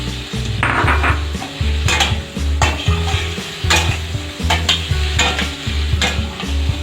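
Spices and pre-fried potatoes are stirred in a pan over medium heat for a jackfruit curry, with a close, steady sizzle and rhythmic scraping strokes of a spatula repeating about once a second, with no talking.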